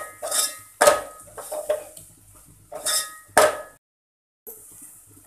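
Utensils clang and scrape against a pan while red chilli powder and spices are sautéed for Marathi-style dal tadka, with several sharp metallic strikes in bursts separated by quiet gaps.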